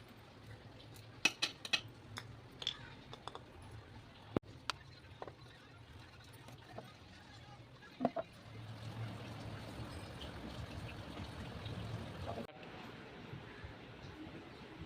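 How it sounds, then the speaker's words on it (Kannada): Metal puja vessels are washed by hand, with sharp, sparse clinks and clanks of metal on metal, followed by a steady rush of running water, all quiet and close. "ನಾನು ನಿನ್ನೆ ಶುಕ್ರವಾರ ದಿನ ಪೂಜೆ ಮಾಡಿದ್ದ ಎಲ್ಲ ಪಾತ್ರೆ ಎಲ್ಲ ಕ್ಲೀನ್ ಮಾಡ್ಕೊಳ್ತಾ ಇದ್ದೀನಿ"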